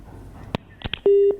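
Telephone busy signal after a caller's line drops during a live television news phone link: a few short clicks, then a loud, steady low beep that holds for a moment before cutting off.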